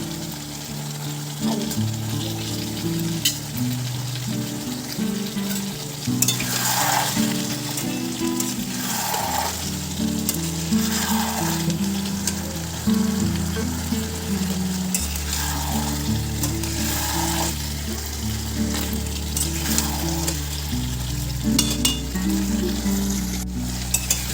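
Chicken frying and being stirred in a pan, a loud, continuous sizzle with rhythmic swells of scraping as the pieces are turned and occasional light clinks of a utensil, over a low background hum.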